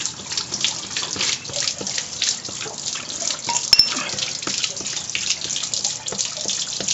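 Camper water system draining, a steady splashing, trickling flow of water that runs continuously and fairly close, with no talk over it.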